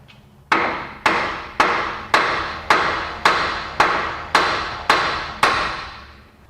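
Nine sharp, evenly spaced metallic hammer blows strike a 1994 Chevrolet Suburban steering knuckle to free the ball joint, each hit ringing briefly before the next, loud and close.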